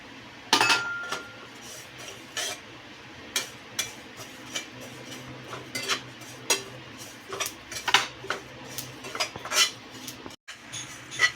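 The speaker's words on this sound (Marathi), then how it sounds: "तीळ आणि खोबरंही इथे भाजून झालेलं आहे" Sesame seeds and grated coconut dry-roasting in a pan while a spatula stirs them, giving scattered metallic clinks and light scrapes at an uneven pace against a quiet background.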